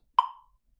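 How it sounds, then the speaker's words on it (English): A single crisp click rings out once, then fades quickly into silence. "So if I get my metronome back on, it'll sound like this."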